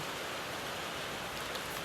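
Steady rain falls with a dense, even hiss of drops, continuous and fairly close throughout, with no voices or other sounds standing out.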